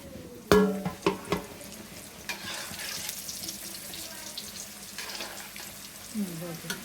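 Pan pitha fry in oil and are stirred, with a few sharp clatters of a utensil at the start, then a soft continuous sizzle and occasional light scrapes.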